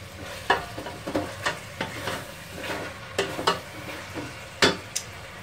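Chicken pieces sizzle gently in a pot with spices, coriander and parsley while a utensil stirs and scrapes them in short, irregular strokes, close and moderately quiet with no talking.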